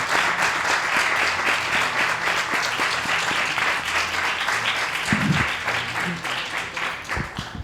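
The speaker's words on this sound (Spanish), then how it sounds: "darte, si les parece, un aplauso" A seated audience at a book presentation for a novel gives sustained, full applause, with clapping holding steady for several seconds before thinning toward the end.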